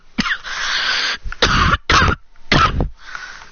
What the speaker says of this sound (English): I have that cough, but I can't let it stop me